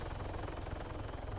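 Steady helicopter rotor drone from Arma Altis Life, a continuous loud whirring hum with a faint rhythmic whine, no voices.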